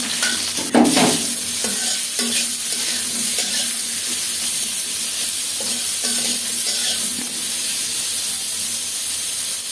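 Pointed gourd pieces fry with cumin seeds in hot oil, giving a steady, close sizzle and hiss, with a clatter of stirring near the start.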